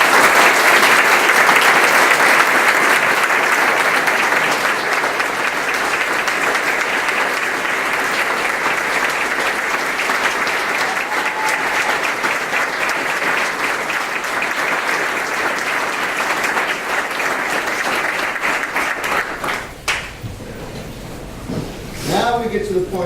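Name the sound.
audience applause at a town board meeting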